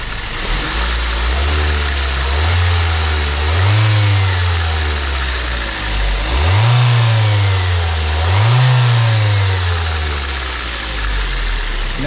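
A 2006 Ford Focus ZX4 with a P0193 fault code, its engine idling then revving in several rising and falling swells, loud and close with a steady low drone between revs and no speech.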